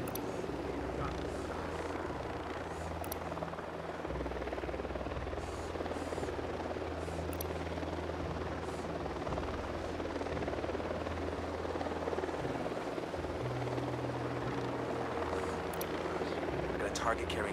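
Enemy Unidad helicopter approaching in Ghost Recon Wildlands, a continuous low rotor drone and engine hum that holds steady throughout, with a player's voice talking over it.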